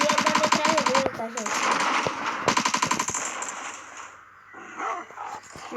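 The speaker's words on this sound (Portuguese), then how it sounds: "Esse barulhinho aqui é da metralhadora" Machine gun fire in a zombie video game, rapid loud bursts of automatic shots in quick succession with pauses between, alongside game creature noises and a speaking voice.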